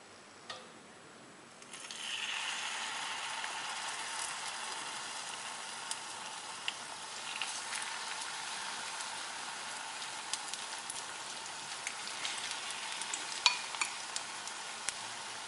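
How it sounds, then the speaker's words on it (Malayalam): Idli pieces dipped in batter sizzle in hot oil in a kadai, a steady close hiss of frying that starts after a brief quiet moment and carries on with faint crackles and pops. "നമുക്ക് കട്ട് ചെയ്ത് വെച്ച ഇഡ്ഡലി ബാറ്ററിൽ മുക്കി ഫ്രൈ ചെയ്തെടുക്കാം."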